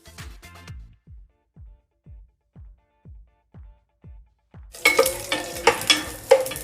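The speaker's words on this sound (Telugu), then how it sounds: "ఇప్పుడు మనం బగారా దినుసులు వేసుకుందాము" Whole spices for a chicken pulao tempering go into hot oil: a few clinks of spoon and pan, then a sudden loud, dense sizzle and crackle that bursts up and keeps frying steadily, with no one speaking.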